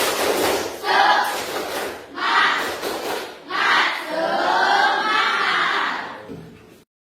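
A school class in Indonesia performs a spirited rhythmic clap chant as a classroom ice-breaker, loud bursts of group clapping and shouted voices in several pulses, ending abruptly.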